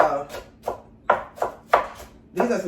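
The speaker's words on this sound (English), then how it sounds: "yellow onions that I'm chopping up right now" Knife chopping yellow onions on a board, six distinct crisp cuts in an uneven steady rhythm, close and fairly loud with no voices.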